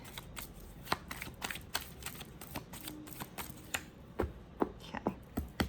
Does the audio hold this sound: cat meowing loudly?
no